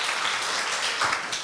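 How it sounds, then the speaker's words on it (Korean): An audience at a university green leader training workshop applauds an introduced guest, a brief steady wash of many hands clapping at moderate volume. "큰 박수 받으십시오."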